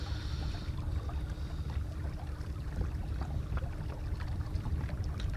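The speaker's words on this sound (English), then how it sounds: "I think I can hear other boats" Steady low engine rumble of a boat on the River Ant near Barton Turf, Norfolk, with wind noise, a continuous motor drone throughout, no talking.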